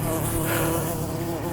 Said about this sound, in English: I just went through a swarm of bees